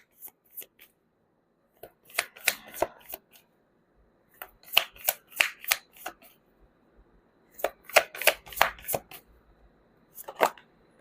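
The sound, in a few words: tarot cards being shuffled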